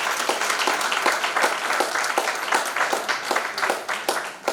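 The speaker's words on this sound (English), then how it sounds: "I want you to give them another round of applause again" An audience at a graduation summit keynote applauds the support staff again, loud, sustained clapping from a large crowd with individual claps cutting through, holding steady throughout.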